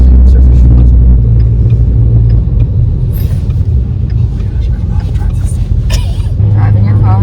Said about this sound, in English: Driving your car for the first time.